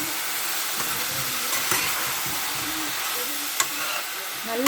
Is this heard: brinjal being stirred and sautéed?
yes